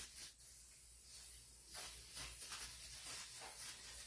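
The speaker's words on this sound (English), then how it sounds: "Now we can go here and spray some slicker." Rubber slicker lubricant sprayed from a can while fitting glass and a headliner in a wrecked Mustang, a faint hiss in short bursts, quiet and close with no voices.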